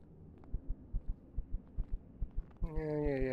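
A heartbeat effect from Empyrion Galactic Survival, with steady paired low thumps repeating over a faint hum, then a sustained tonal drone rising near the end.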